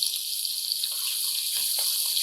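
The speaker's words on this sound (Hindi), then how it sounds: "हमने इसमें प्याज डाल देना है।" Onions go into half a cup of hot ghee in a kadai over a medium flame and fry with a loud, steady hiss and sizzle, close up and constant, with no talking.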